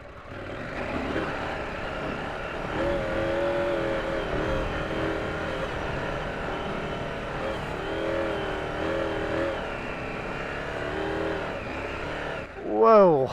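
A 2024 KTM 790 Adventure motorcycle drones steadily as it rides through soft, deep sand, its engine holding a loud, even note before a sharp rising rev at the end.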